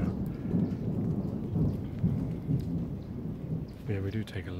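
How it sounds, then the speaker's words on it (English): Rain begins falling with rumbling thunder in an outdoor setting, a steady loud wash and low rolls, with a brief voice near the end. "it's starting to rain now"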